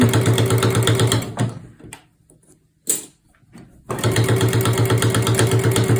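A sewing machine back stitching bunting fabric runs in a rapid, loud mechanical chatter, stops briefly for a pause with a small click, then starts again at the same steady pace.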